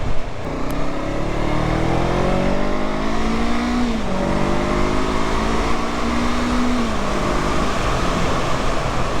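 A loud Honda CB500F motorcycle engine with a new clutch revs and accelerates through rising gear pitches past 6,000 rpm, dropping and climbing again, close and continuous.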